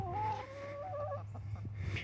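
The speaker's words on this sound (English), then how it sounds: "Yep, there's a bunch of chickens." Six wing-clipped homestead chickens in Central Texas cluck and murmur nearby in a short burst of overlapping calls, with a steady low hum underneath and no talking.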